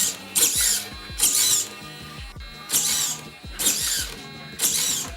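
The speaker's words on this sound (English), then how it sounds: "the last servo we're going to test is this steering servo over here" Steering servo on an RC truck being tested, repeated short whirring mechanical bursts with gear whine, about five pulses in a regular back-and-forth rhythm, close and clear with no talk.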